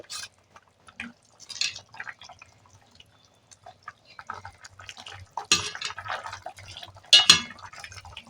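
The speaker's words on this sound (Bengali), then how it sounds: "ঝোল দেড় মিনিট ফুটে গেছে" Thankuni leaf broth boils in a pot, giving soft bubbling and dripping with occasional light clinks of utensils against the cookware, fairly quiet and close with no talking.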